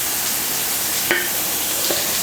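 Long-sliced onions sauté in a pan for Kerala mutton kurma, giving a steady close sizzle with a couple of faint stirring scrapes and no speech.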